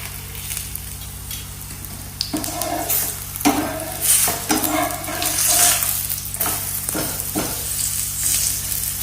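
Flatbread cooking on a hot iron griddle in a village kitchen, with a steady low sizzle and hiss throughout, punctuated by scraping and stirring clatters near the pan.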